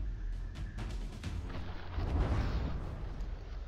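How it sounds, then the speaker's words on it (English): Heavy shell strike on a warship's rear turret in a From the Depths battle: deep booming impact with rumbling blasts and crackle, a louder hit near the middle, no voices. "that rear turret taking a direct hit"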